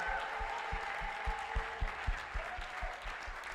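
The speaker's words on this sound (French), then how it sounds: "Acclame fortement le Seigneur, s'il te plaît." A church congregation applauds loudly for the Lord, with dense clapping and crowd noise under a few raised voices and steady rhythmic claps running through it.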